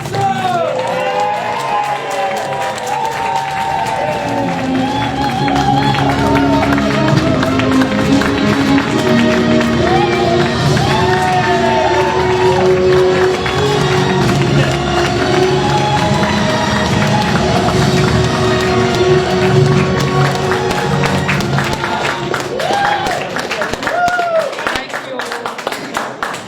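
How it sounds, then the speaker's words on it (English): A large rally crowd claps and cheers loudly and steadily for Britain First deputy leader Jayda Fransen taking the stage, a dense continuous roar of applause with whoops and shouts, and no speech over it. "let me have a big round of applause to your feet for Deputy Leader Jayda"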